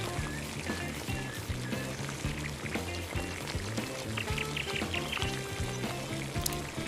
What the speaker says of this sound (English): Strong boiling, strong cooking for about 20 minutes